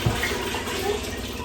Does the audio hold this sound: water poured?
yes